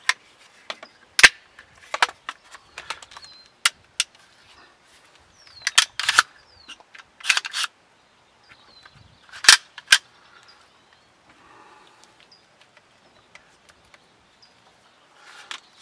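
An ARAK-21 rifle fires a series of sharp, loud single shots, spaced irregularly with quiet gaps between them, heard at close range at an outdoor range.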